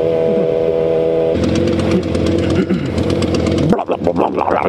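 A motorcycle engine revving loudly nearby, a rough buzzing drone that rises and wavers through several throttle blips.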